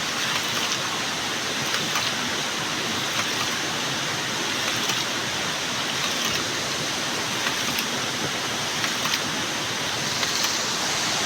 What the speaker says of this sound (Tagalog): Ayan po yung ilog masing, baha ngayon.